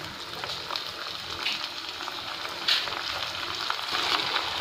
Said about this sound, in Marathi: आता आपण चिकन 65 तळून घेऊ। हे पहा, तेल आपलं गरम झालेलं आहे।